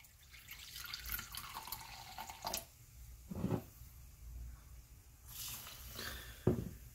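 Apple cider vinegar is poured onto mustard seeds soaking in Shiner Bock beer, giving a few short liquid splashes and trickles between quiet gaps, close by, with the last pour ending in a sharper plop.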